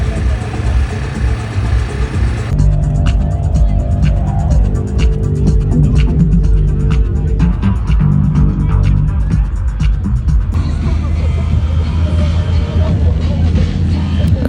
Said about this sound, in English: This is one of the famous art cars.